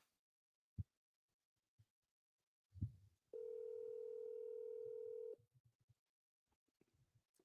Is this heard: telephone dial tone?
yes